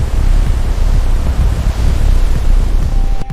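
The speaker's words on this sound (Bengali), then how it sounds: "হঠাৎই শুরু হলো ভয়ঙ্কর ঝড়।" A sea storm roars as a dense, loud, steady wash of wind and surf that surges slightly and then cuts off abruptly at the end; no voices.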